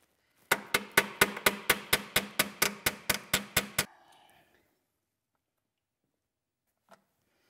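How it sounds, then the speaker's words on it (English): A modified hammer striking while work is done on a track and its drivers: about fourteen sharp, evenly spaced blows in a quick steady rhythm, close and loud, then silence with one faint tap. "I'll use this modified hammer."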